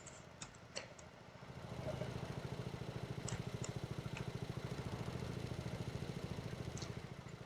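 A vintage tractor engine in Farming Simulator 22 runs at a steady idle, a low rhythmic chugging putter that swells slightly and holds, with a few faint high clicks early on.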